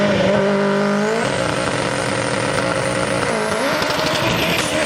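A drag race car roars down the drag strip at full throttle on an 8-second pass, engine pitch climbing through gear shifts, loud and close for the whole stretch.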